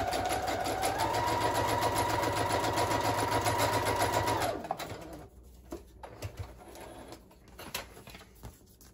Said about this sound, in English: I'm just gonna go to my sewing machine and just sew all the way down the center